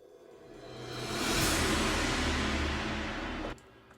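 A metallic rise-and-hit effect from the Pure Metal preset of the Soundiron Rainsong plugin, a shimmering swell that builds for about a second and a half, holds bright and loud, then cuts off sharply near the end.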